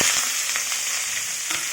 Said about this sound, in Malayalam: കടുക് പൊട്ടി വരുമ്പോൾ ഈ സവോള അരിഞ്ഞതും പച്ചമുളകും ഒക്കെ കൂടെ ചേർത്ത് കൊടുക്കുക.